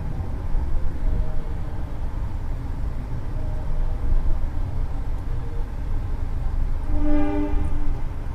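The Progo passenger train pulls in, a continuous rolling rumble under one loud, sustained horn blast near the end.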